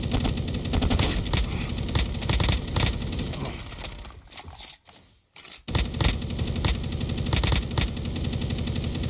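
Dense automatic gunfire from Call of Duty Mobile's DMZ mode, rapid loud bursts running almost continuously, breaking off briefly in the middle before resuming with the same fast rattling volleys.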